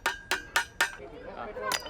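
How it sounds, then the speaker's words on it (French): Hammer blows on a short metal rod being flattened into a rivet, four sharp evenly spaced strikes close by, then a brief pause and one more strike. "écrasée au marteau."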